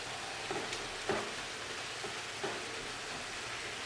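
About 2.5 pounds of ground beef browns in a pan, giving a soft, steady sizzle with a few faint clicks of stirring, quiet and uninterrupted by talk.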